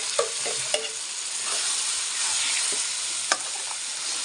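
Bhat (black soybean) paste with dried curry leaves frying in hot oil for a Uttarakhand hill dish: a steady, close, loud sizzle with a few sharp spoon knocks against the pan.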